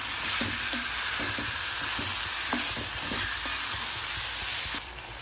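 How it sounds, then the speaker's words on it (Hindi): Chicken frying in a pan, a steady loud sizzle with repeated soft scraping and knocking as it is stirred, close up and without any talking. "चिकन डाल के चिकन को फिर से हमें बहुत अच्छे से भूनना है।"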